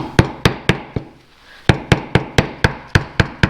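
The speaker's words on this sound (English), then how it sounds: "And you can just hammer it." Hammer blows on an M113 engine camshaft bearing bridge during assembly, roughly a dozen sharp, evenly spaced metallic taps close by, with a brief pause in the middle and no talking.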